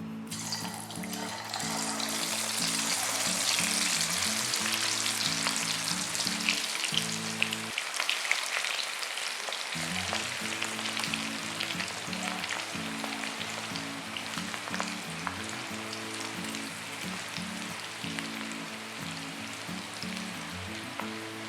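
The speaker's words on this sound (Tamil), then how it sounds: "இப்போ நம்ம வந்து எண்ணெய் சூடு பண்ணி வறுக்க ஆரம்பிச்சிடலாம்" Cabbage 65 pieces deep frying in hot oil, a loud steady sizzle and crackle of bubbling oil running continuously, with a low-pitched hum in the background that briefly drops out partway through and then returns.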